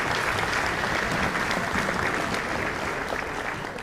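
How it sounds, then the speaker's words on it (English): Steady applause from an audience at an elementary school spring concert, dense continuous clapping at an even level throughout, fading slightly at the end. "We can give them a round of applause."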